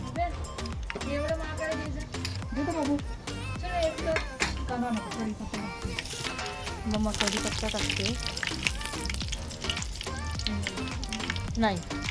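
Pieces of dough fry in hot oil heated over a wood-fired chulha, a continuous bubbling sizzle running underneath voices and other busy, overlapping sound throughout.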